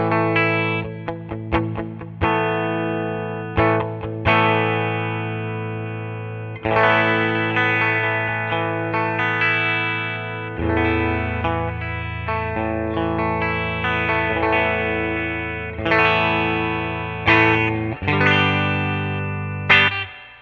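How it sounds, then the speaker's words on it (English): Electric guitar chords ring out through an amp via a HeadRush pedalboard effects loop, each strum followed by a splashy, lingering spring reverb tail, played in a slow series of distinct hits. "you're hearing the magic of that spring reverb"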